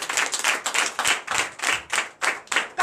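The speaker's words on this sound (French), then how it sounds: "Que je vous demande d'applaudir très très fort l'Éternel." Worshippers at a Sunday church service clap hands in a rhythmic, fairly quick beat, each clap sharp and close, continuing steadily with no talk over it.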